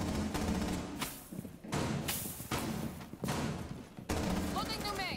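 Enemy gunfire in a tactical shooter game comes as a string of heavy thuds and rapid shots in clustered bursts, close and loud, with a brief whistling electronic tone near the end.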